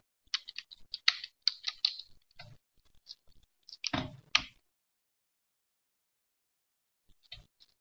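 Quick bursts of clicking keystrokes on a computer keyboard, uneven clusters close to the mic with short pauses between, then a long silence and one final pair of taps.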